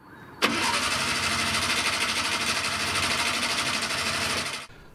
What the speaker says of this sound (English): We kept on turning it over, but it looked like there was no spark.